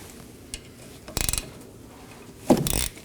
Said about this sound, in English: I'm going to take a 13mm wrench and some pliers to remove the caliper slider pin bolts